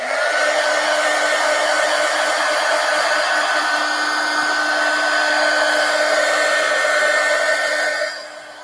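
A hair dryer blows steadily at close range over a thickly painted collage journal page, a loud continuous whir that runs unbroken for several seconds before dropping off as it is switched down near the end.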